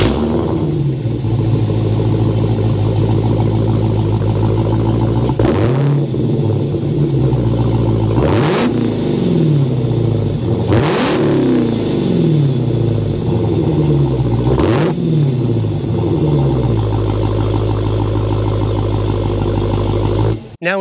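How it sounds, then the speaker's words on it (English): A 2023 Dodge Challenger SRT Hellcat Jailbreak with a supercharged Hemi V8 idles loudly and steadily from close by, with a few sharp revs rising and falling across the twenty seconds. "start it up so you can hear that exhaust note"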